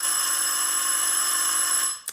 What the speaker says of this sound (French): Rassure-toi, chéri, c'est le téléphone.